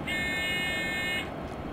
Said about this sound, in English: I'd like to know what that buzzer means